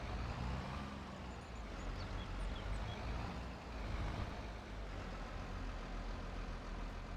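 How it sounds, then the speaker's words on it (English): Tractor engine in Farming Simulator 22 running steadily at a low, continuous rumble, with no talk over it. "As soon as I get in the tractor, it starts rolling again."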